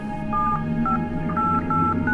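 A telephone keypad is dialed to call a girlfriend, giving a quick run of crisp beeping tones, one per key, clear over a faint background hum.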